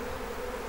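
Honey bees swarming and regrouping, a steady dense buzzing drone from many insects, continuous and fairly loud, with no voices.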